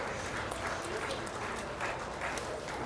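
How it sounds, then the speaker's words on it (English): A crowd applauds steadily at a dairy show in a large arena after a junior showmanship class, the clapping dense and continuous with some speech-like murmur mixed in. "Let's give all of these youth a nice round of applause."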